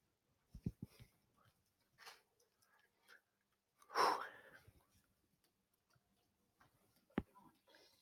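A single sharp sneeze bursts out midway through a quiet classroom geometry lesson, loud and close, followed later by a brief click, with scattered faint shuffling and room noise around it.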